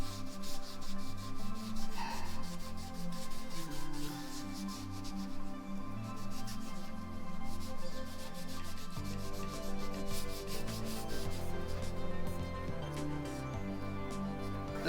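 Steady rubbing and sanding with 600 grit sandpaper on a crosscut sled fence coated with four coats of polyurethane, continuous close strokes with no talk.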